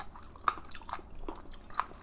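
Raw sea cucumber is chewed up close with faint, crunchy, rubbery bites, two sharper crunches standing out amid soft, steady mastication.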